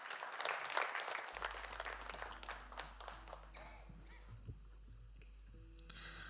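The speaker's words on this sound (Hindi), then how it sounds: "जोरदार तालियां इनके लिए।" A live audience applauds a singer at a music competition stage show, with dense, loud clapping that swells early and then continues steadily before tapering off.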